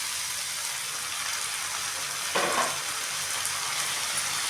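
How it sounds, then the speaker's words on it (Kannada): Boiled legumes fry in oil in a pan with a steady, close sizzle and crackle, and a brief stirring scrape sounds near the middle. "ಇವಾಗ ಎಣ್ಣೆಯಲ್ಲಿ ಫ್ರೈ ಆಗಿದೆ. ನಾವು ಬೇಯಿಸ್ಕೊಂಡಿದ್ದೀವಲ್ವ ಆ ಕಾಳು ಇದಕ್ಕೆ ಹಾಕ್ತಾಯಿದ್ದೀವಿ."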